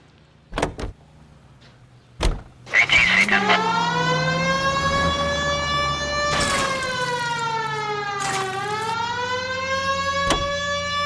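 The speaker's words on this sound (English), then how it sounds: "We have a siren." A police car siren in the video game L.A. Noire winds up after a couple of door thumps and holds a loud, wailing rising-and-falling tone that dips twice and continues steadily to the end.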